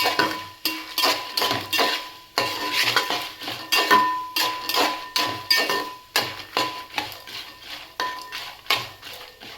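A utensil stirs poha with asafoetida in a metal pan, giving a rapid series of scraping clinks and clatters, close and fairly quiet, with no talk.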